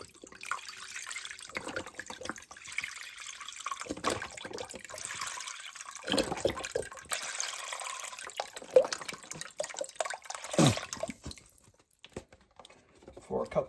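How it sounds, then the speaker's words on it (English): Beef broth pours into a blender jar with chipotle peppers, garlic and onion, a close, splashing liquid stream broken into several pours alongside clatter from the kitchen. "we're gonna dump in 4 cups of beef broth"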